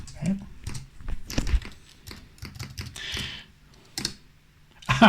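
Keys pressed on a ZX Spectrum Next keyboard, a scattered series of soft plastic clicks and taps at an uneven pace, with someone speaking quietly between the presses.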